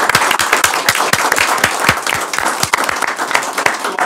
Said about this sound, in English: let's have a round of applause for that plaque